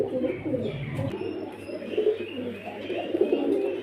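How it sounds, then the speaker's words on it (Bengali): Several pigeons at a Beldanga pigeon sale coo in low, overlapping murmurs that run continuously through the whole stretch, fairly close and moderately loud, with light chirps mixed in and no talk. "দেখুন পায়রা দেখুন আমাদের কাছে প্রচুর পায়রা আছে"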